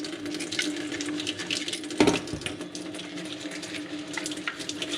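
Old Wiggle Wart fishing lures being washed with Dawn dish soap in water: soft continuous splashing and swishing close by, with one sharper slosh midway.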